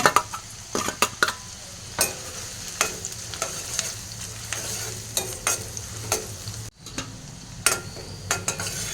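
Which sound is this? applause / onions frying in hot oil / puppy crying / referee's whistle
onions frying in hot oil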